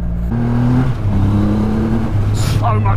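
A 2020 Triumph Rocket 3 GT motorcycle accelerates hard on the road, its loud engine note climbing through a couple of rising sweeps, with wind rush and a voice briefly over it.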